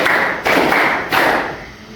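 A group claps hands together in a steady pattern, with three broad bursts of applause-like clapping loud and close, no voices.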